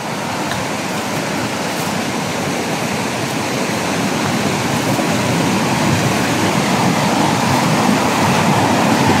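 Loud, continuous rushing of river water in a forest fills the scene, a dense steady roar that swells slightly over time, with no voices.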